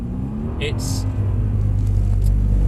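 A Mercedes-Benz car slides around the Mercedes-Benz World track on steady throttle, its engine giving a continuous, close, low rumbling drone that swells slightly midway and holds without gear changes.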